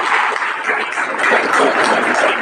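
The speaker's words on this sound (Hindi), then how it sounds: "उनका ताली का स्वागत करता हूँ" Students at Jawahar Navodaya Vidyalaya in Rupvel, Navsari, give a loud, steady welcoming applause that fills the hall as a continuous dense wash of clapping.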